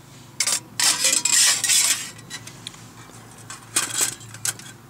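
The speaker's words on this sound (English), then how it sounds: "You can then pop in your ash pan if you wish, just by sliding it in the bottom grate here." A metal ash pan slides into the bottom grate of a folding Firebox stove with bright scraping and clattering, a long rattling slide near the start followed by lighter metallic taps and clinks, close and alone.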